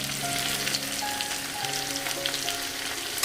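Ivy gourd (kundri) pieces frying in hot oil give a dense, continuous crackling sizzle, close and steady throughout, with no voices.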